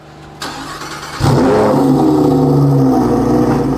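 A Lamborghini Huracan STO engine cranks briefly, then fires up loudly with a rev and settles into a rumbling idle, close by.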